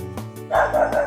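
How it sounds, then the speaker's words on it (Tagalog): A noisy dog barks in a rural village in Lopez, Quezon, a short near bark or two rising over background sound, with rooster-like tones in the mix. "may asong maingay"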